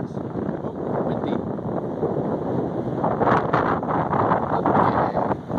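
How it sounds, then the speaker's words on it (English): Loud wind roars and rumbles against the microphone in continuous gusts in Leilani Estates during the 2018 Kilauea eruption, with a faint voice mixed in underneath. "Oh, windy."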